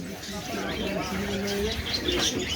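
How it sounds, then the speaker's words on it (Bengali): Pigeons coo nearby in a bird shop in Bangladesh, in an overlapping chorus with some chirps, mixed with indistinct voices in the background. "এই আপনাদেরকে আবার কবুতর দেখাই"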